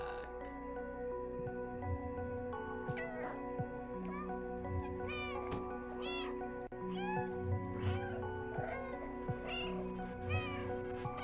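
A cat in the video game Stray meows repeatedly in short, rising cries over a steady musical backdrop, the calls coming in irregular bursts and fairly close.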